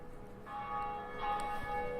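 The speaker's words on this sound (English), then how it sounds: "First bell." A church bell tolling in the video game Dark Souls, a single resonant strike whose bright metallic overtones swell and ring on with a long sustained hum, close and clear, with no voices.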